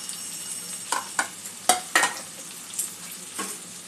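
Ground spices (turmeric, chili, coriander and cumin) sizzling with onion and tomato in a pan, a soft steady fry with a few scraping stirs and clinks, close and fairly quiet, no speech.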